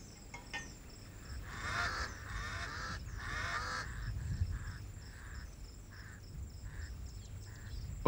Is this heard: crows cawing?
yes